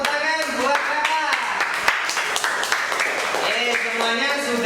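A classroom of students claps for an older student during an Indonesian lesson on the call to prayer, with lively voices and cheers mixed in over a steady patter of hands.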